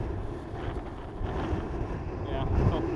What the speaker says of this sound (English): Whoa, it's breezy, man.